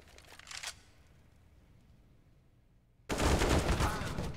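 Counter-Strike gunfire on the Mirage map: a short burst early on, a quiet gap, then a loud sustained spray of automatic fire to the end, with a caster's voice faint beneath.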